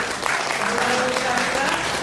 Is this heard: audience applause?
yes